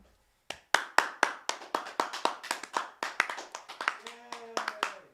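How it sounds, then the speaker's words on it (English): A small studio audience claps at the end of a talk show on saving on taxes, sharp individual hand claps building into a scattered, fairly close burst over a few seconds, with a voice chiming in near the end. "Thanks to all of you in the studio audience. Let me hear you clap."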